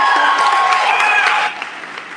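An audience at a Farmington High School band concert claps for the pianist, with a brief burst of close, dense applause that thins out after about a second and a half, with faint voices mixed in.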